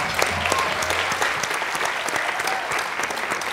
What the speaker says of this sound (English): please give a wonderful warm applause to Cassandra Pye